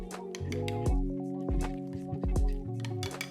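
A thick chia seed tiramisu mixture is stirred in a bowl, giving wet squelching and gloopy, tonal squishes in an irregular rhythm, close and moderately loud.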